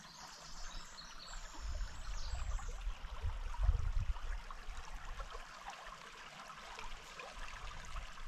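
Creek water trickling and babbling steadily nearby, a continuous soft rushing with occasional low rumbles from wind or movement.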